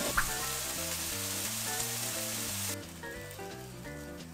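Chicken cartilage sizzles and crackles steadily in an air fryer at 180 degrees, a continuous close hiss with a musical tone running underneath that thins out partway through.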